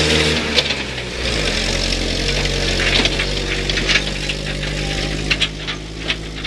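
A privately owned WW2 gun tractor driven around a field at a re-enactment, its engine running loud and close in a steady rumbling drone with slight knocking texture throughout.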